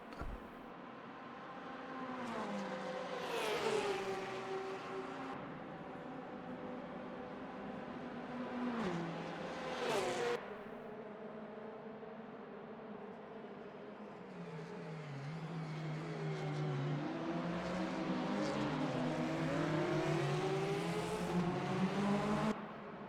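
Porsche race car engines in Le Mans Ultimate at Fuji rise and fall through gear changes as the cars accelerate and downshift, with a steady loud whine over a continuous engine drone.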